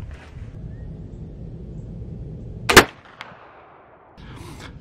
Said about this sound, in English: now all we gotta do is prime it and shoot.